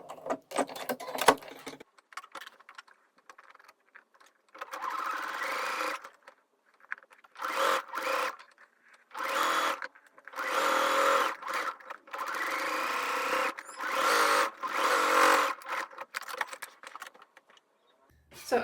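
A sewing machine stitches the shoulder seams of a garment made from a kids' quilt, running in repeated bursts of a few seconds each with short pauses between them. The sound is close and steady, with no talk.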